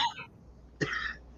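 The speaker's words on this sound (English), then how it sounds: "I can't hear you coughing over my cough." A quiet, short cough and throat clearing, one brief burst after a faint earlier rasp, close and alone.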